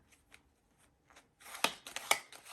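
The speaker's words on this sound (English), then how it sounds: "I'm learning this new way to shuffle" Quiet faint rustles, then a burst of crisp riffling snaps as playing cards are shuffled, two sharp flurries close together.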